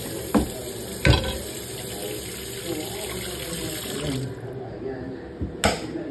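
Water running from a kitchen tap while dinner of mashed potatoes and grilled pork belly and chicken is being prepared, a steady wash with a few sharp clanks of dishes or utensils.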